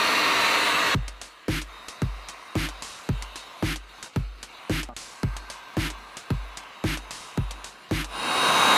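A heat gun warms a car windshield, blowing a loud continuous airy roar that is broken by a rapid series of sharp clicks or taps in a regular rhythm before the blower swells again at the end.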